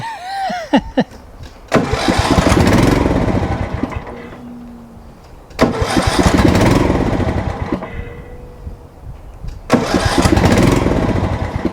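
A John Deere Z225 mower engine with a leaking new fuel pump cranks and catches three times, each start roaring up loudly for a few seconds before dying back toward quiet.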